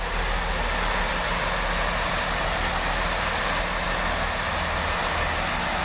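A test train rolls into carriage sidings at Oxford, giving a steady, loud, broadband rumble and roar that holds evenly throughout with no speech over it.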